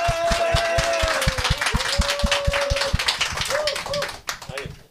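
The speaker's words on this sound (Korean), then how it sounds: "다시 한번 박수." Studio participants on a live broadcast clap in a quick, close, rhythmic burst, with voices and music continuing underneath.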